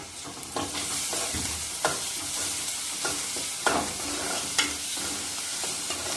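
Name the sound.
onion with ginger-garlic paste sautéing in a pan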